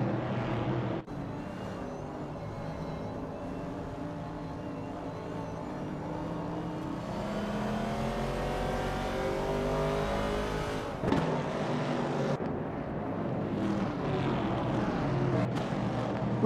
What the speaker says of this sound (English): That's the current state of the racing cars driven by artificial intelligence in the simulator